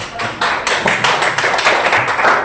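Classroom applause for a student group that has just presented, a burst of many hands clapping in close, uneven rhythm that carries on steadily for a couple of seconds.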